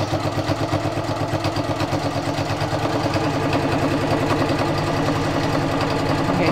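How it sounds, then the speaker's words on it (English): A sewing machine stitches bias binding in a fast, steady mechanical rhythm, its motor humming under a continuous run of rapid needle strokes, close and moderately loud with no talking. "it's just stitching along very nicely"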